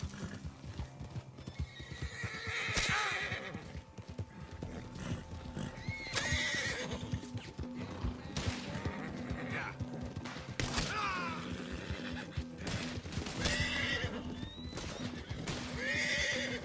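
A horse in the video game Red Dead Redemption 2 whinnies repeatedly over steady clip-clopping hooves, with a person talking throughout.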